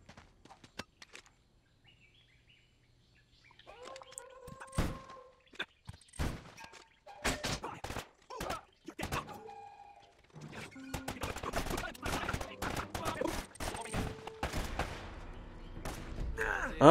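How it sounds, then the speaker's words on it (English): Sporadic gunfire and impact thuds from the Uncharted video game, scattered bursts of sharp cracks growing denser toward the end, with no talk over them. "Stop shooting at me."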